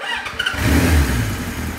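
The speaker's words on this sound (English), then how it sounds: "I might just start it up." A warm 45-year-old Kawasaki KZ900 motorcycle starting without choke, a brief cranking whir catching into a loud, close, steady engine rumble settling toward idle.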